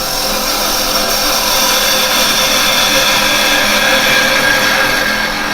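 A woodturning tool cuts wood spinning on a lathe, a loud, constant hissing scrape with the bevel riding the surface, steady and close throughout.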